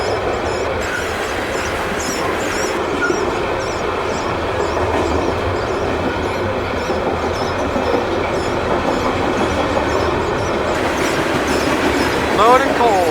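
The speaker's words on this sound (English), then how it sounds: "Loaded coal train. These are really long trains." A long loaded CSX coal freight train passes close by in Germantown or Boyds, Maryland, with a loud, continuous rumble and rhythmic clatter of wheels on rail joints and a brief wheel squeal near the end.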